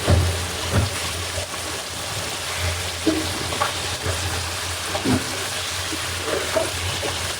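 Tilapia fish frying in hot oil, a steady crackling sizzle with scattered pops running throughout, fairly close, with no talking.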